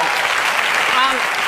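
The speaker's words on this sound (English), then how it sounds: "The applause." A studio audience on the Ellen show applauds loudly, a dense continuous clapping that fills the short moment, with voices mixed in.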